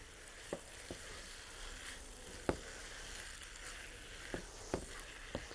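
Boiled, drained potatoes fry with saag in a pan for aloo saag, giving a soft, steady sizzle with scattered small pops and clicks, quiet and close.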